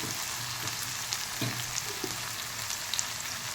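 Curry leaves and spices sizzle in a hot pan over a full flame, a steady dense frying hiss with a few soft stirring knocks, close and continuous with no voices.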